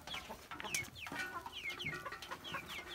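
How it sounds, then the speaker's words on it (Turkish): Several chickens cluck and chatter close by, with soft overlapping calls and no voices. "tavuklar kemik suyu partisi yapıyor"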